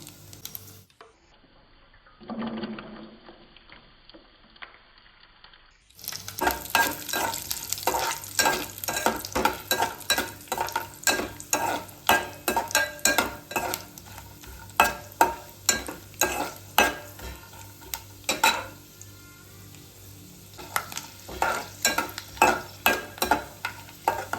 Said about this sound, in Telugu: చూడండి, ఇలా కొబ్బరి ముక్కలు ఇవన్నీ మంచిగా వేగినాయి